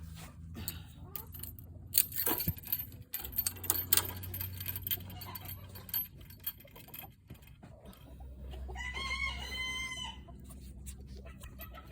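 Chickens cluck and call intermittently in the background, with a louder, drawn-out squawk later on, over faint rustling and handling noises.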